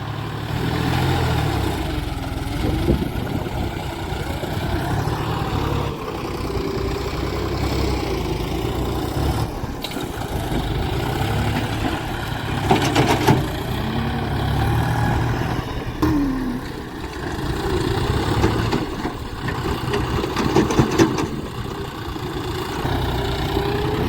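A tractor engine idles steadily with a low rumbling throb, close by, while manure is loaded, with occasional slight revving bumps and no talking.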